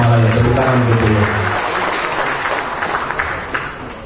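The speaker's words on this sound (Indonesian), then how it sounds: "Tepuk tangan untuk beliau." Loud crowd applause for a Karang Taruna figure at a youth organization assembly in Tasikmalaya, dense clapping that fades slightly, with a voice over a sound system early on.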